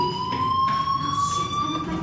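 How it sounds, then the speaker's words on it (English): Fire alarm sounding in the video game Life is Strange, a steady high electronic tone ringing continuously with harmonics, loud and alone over a faint low background rumble. "Hey, do you hear that fire alarm?"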